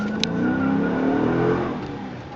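A 2014 Dodge Charger R/T V8, 100th Anniversary edition, revs up and accelerates with a loud, rising engine roar that swells and then eases off.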